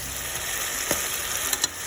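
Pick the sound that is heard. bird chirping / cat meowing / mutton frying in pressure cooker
mutton frying in pressure cooker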